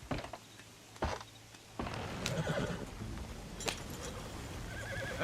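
Horses whinny several times in Red Dead Redemption 2, with sharp neighs standing out over a steady bed of hoof clip-clop and outdoor ambience, fairly close and without talk.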